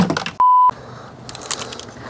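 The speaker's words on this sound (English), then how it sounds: "I just temporarily hooked it up to the battery, and it started beeping at me." An electronic device temporarily hooked to a battery during a solar panel install in an ambulance conversion gives a single clear, steady beep lasting about a third of a second, with low background noise around it.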